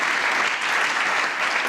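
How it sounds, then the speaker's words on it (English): A theatre audience applauds a couple on stage at a psychic show, a dense, steady wash of many hands clapping at close range with no voices. "Can we have a huge round of applause for these two?"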